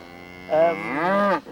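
A single cow moos once, a drawn-out, rising and wavering low call heard close and clear against a quiet background.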